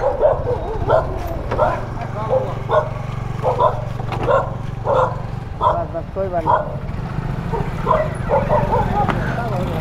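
A dog on a city street barks repeatedly in a steady run of close, loud yaps under a low background rumble, while people talk over it.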